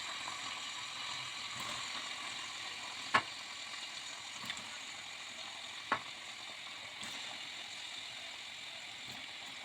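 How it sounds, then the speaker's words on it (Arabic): Potatoes fry in very hot oil with a steady, bright hiss that fills the space, while a few faint clicks and taps from a utensil cut through now and then. "انا كنت منزله البطاطس على ايه زيت سخن جدا"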